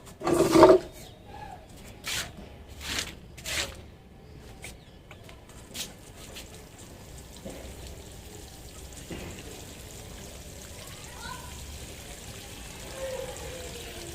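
Water is poured onto a sweet lime (mosambi) plant potted in a sack, first as a few splashy bursts near the start, then settling into a soft, steady patter of water soaking into the soil.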